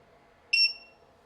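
A Leaptrend 3000W pure sine wave power inverter with GFCI switching on gives a single sharp electronic beep that starts suddenly, holds briefly and fades, standing alone over a faint low hum.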